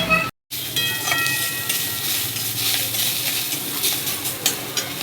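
Radish greens fry and get stirred in a hot pan, a steady loud sizzle with scraping stir strokes throughout, broken by one brief silent gap near the start.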